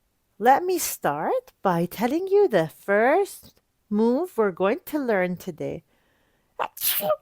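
A child gives a single sharp sneeze at the end, right after a stretch of clear, close speech from another person.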